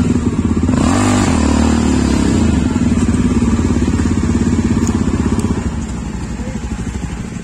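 Jawa motorcycles on a group ride thump loudly nearby, engines idling and revving with a rhythmic single-cylinder beat, one pulling away and fading slightly toward the end.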